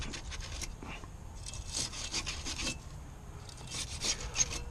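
Rough rasping and rubbing as corrosion is scrubbed off a Chevy Impala rear brake backing plate, quiet and close, in uneven back-and-forth strokes with no talking.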